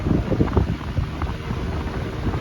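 Universal 18-inch wall fan running on its high speed setting, giving a steady loud rushing whoosh of air close to the microphone with a low rumbling buffet, no talk.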